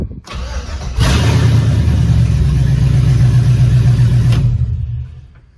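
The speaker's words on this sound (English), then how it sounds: "I love that I can just get in it and start it up." A 1966 Chevrolet C10 pickup engine cranks briefly, catches and settles into a loud, close, steady idle with a rumbling low throb, then cuts off near the end.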